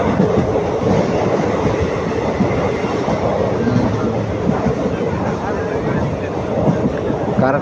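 Passenger train running at speed through hilly country between Dindigul and Udumalaipettai, a loud, steady rumbling roar of wheels and carriage with faint clattering, heard continuously from on board.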